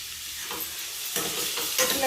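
Turmeric and salt stir-fried in oil in a pan for a dish made without onion or garlic: a steady close sizzle with a few scraping strokes of the spoon across the pan.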